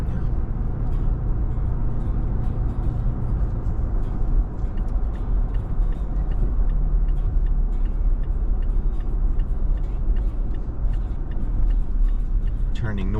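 A car being driven along the Little Rock Marathon route, heard from inside the cabin: a steady, loud low road-and-engine rumble runs throughout, with faint, regular ticking clicks layered on top.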